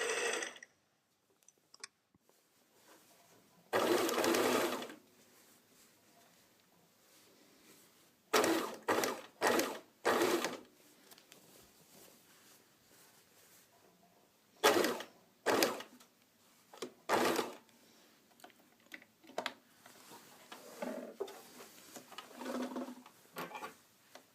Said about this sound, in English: keep sewing until you get to the other shoulder line, the other shoulder seam, and then you can stop